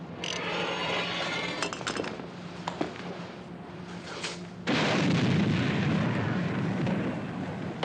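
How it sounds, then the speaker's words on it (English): Submarine torpedo launch aboard a warship in a 1957 war film, a sudden loud rushing whoosh that swells and holds after a stretch of mechanical clinks and background hum. "Fire one. Fire one!"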